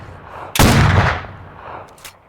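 A shotgun blast in STALKER: Shadow of Chernobyl, one loud, close booming shot with a rumbling tail fading over about half a second, followed by faint metallic handling clicks.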